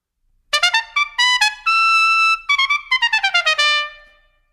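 Bright, cutting piccolo trumpet plays a quick melodic phrase alone: short tongued notes, a sustained held tone, then another run of rapid notes that fades out with a short ring.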